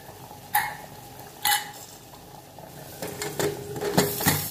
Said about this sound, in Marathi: आता आपण याचं झाकण लावू